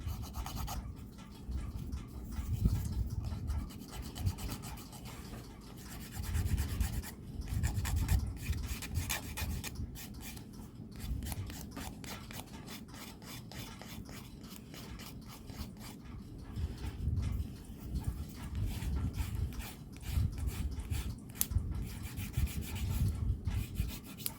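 Steady rasping and rubbing strokes, close and continuous, as a nail file buffs the shine off a fingernail's surface before gel nail extensions are applied.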